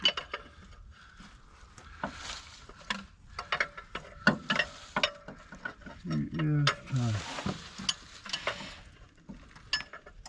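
Hand tool working on the crank bolt of a buried, abandoned 1978 Ford Courier mini truck engine: scattered sharp metallic clicks and ratcheting clanks, fairly quiet, with brief muffled voices mixed in.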